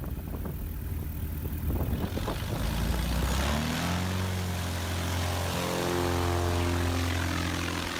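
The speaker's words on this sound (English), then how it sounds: "This plane doesn't need much space to take off." A small propeller plane runs up its engine for takeoff, the buzzing drone starting low and then rising steadily in pitch as it climbs, loud and close with no talk.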